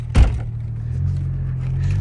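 A BMW engine rumbles low and steady at close range during a street drift, with a brief thump near the start.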